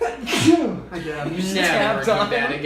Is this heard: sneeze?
yes